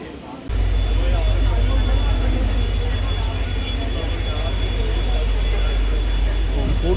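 A heavy, continuous low rumble of a passing goods train swells in after a quiet moment and holds steady, loud and close, with a faint high tone above, heard from a halted train at a station in Tamil Nadu, India.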